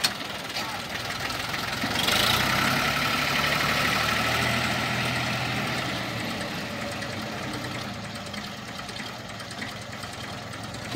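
A Massey Ferguson 35 tractor labours on a road, hauling a 60-quintal trolley of sugarcane. The engine chugs and knocks steadily under strain, loud and close, with voices faintly around it.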